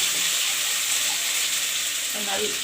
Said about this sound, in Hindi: अहाँ के लहसुन के फ्राई भ रहल है।